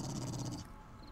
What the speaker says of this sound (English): Oh, I see dogs.